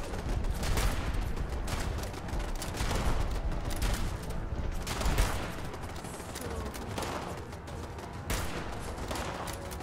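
Automated turrets fire steadily in the Fallout 76 video game, a dense, continuous barrage of rapid gunfire with mechanical clatter that swells and dips in bursts over about ten seconds, with no talking.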